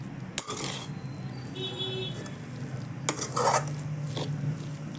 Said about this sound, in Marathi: छान असं मिक्स करून घेऊया बटाटा एकदम पूर्ण असं मॅश नाही करायचा